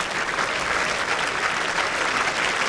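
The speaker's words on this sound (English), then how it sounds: "You have a nice round of applause there" A crowd at the 2015 World Bowls Championship gives a steady round of applause after Victoria Bilson wins her match, dense even clapping throughout at moderate distance with no voices over it.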